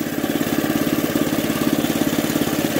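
A 2014–2015 run bike motorcycle idles steadily nearby, a loud, even pulsing engine rumble with no talk over it.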